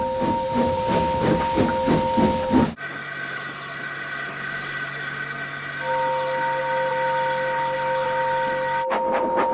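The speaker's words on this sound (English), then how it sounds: "Poor Gordon, he couldn't stop whistling, and he puffed sadly away" A loud, steady steam locomotive whistle blows continuously with strong sustained tones, over a hissing rumble of the steam engine, with a brief busier passage at the start.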